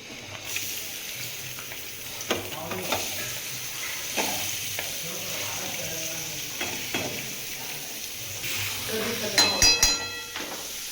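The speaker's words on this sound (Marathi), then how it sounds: "तर कांदा टाकायचा" Onion fries in a pan while being stirred. A soft sizzle runs throughout, with scraping strokes and a few clinks of the utensil near the end. Voices talk over the cooking.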